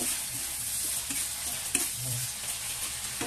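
Pork cubes with a little soy sauce sizzle and get stirred in a hot pan for pancit bihon rice noodles, a continuous close frying hiss with occasional utensil scrapes and taps, no speech.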